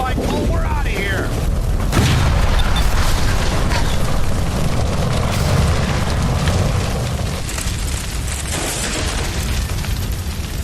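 A gas line blows up in L.A. Noire with a loud, sustained explosive roar and rumble. Crackling debris and fire noise follow under shouted voices.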